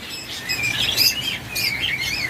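Lovebirds and other caged pet birds such as budgerigars, java sparrows, cockatiels and finches chirp in a bird shop, bright overlapping tweets and whistles in quick bursts, close and fairly loud.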